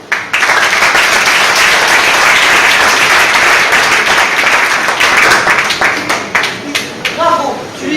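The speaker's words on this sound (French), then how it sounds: "Ingrid et Fabien vont vous faire partager leur vécu sous vos applaudissements" A theatre audience at an amateur sketch show breaks into loud applause, dense clapping building quickly and holding, then thinning to scattered claps near the end.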